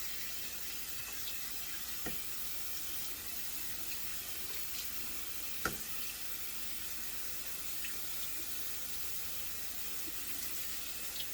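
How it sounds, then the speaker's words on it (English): Cold tap water runs steadily into a sink while a wig is rinsed under it, a constant soft broadband hiss with a couple of faint knocks, close and alone without speech. "Now I'm just going to rinse her really good with some cold water"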